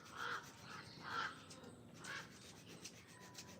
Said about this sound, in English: We've got so many ravens.